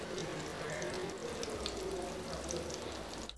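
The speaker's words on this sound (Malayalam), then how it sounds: "എണ്ണ നന്നായിട്ട് ചൂടാകുമ്പോൾ നമുക്ക് ഫിഷ് ഇട്ട് കൊടുക്കാം" Fish sizzles and crackles steadily in hot oil, cooked Kerala style, a dense close hiss with no talking.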